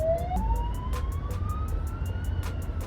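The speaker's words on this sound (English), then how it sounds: "You can can probably hear a siren." A CFA fire engine siren wails in the distance, its pitch slowly rising, with a steady ticking and low rumble of traffic underneath.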